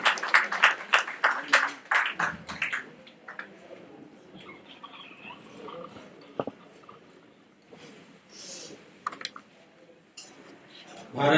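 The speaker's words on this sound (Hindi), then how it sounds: "एक बार जोरदार तालियां" A few seconds of crisp hand clapping from an audience at a Hindi-language memorial ceremony for Dr. Bhimrao Ambedkar's death anniversary, dying away quickly; a speaker then talks over a quiet room with scattered small noises.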